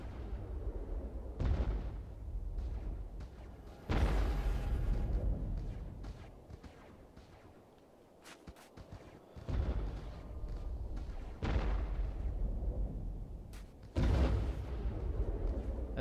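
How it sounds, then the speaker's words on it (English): Heavy turret cannon fire in the Star Wars: The Old Republic video game, a series of loud booming blasts repeating every few seconds, each with a broad rumbling tail, in a steady battle soundscape. "We're taking turret fire."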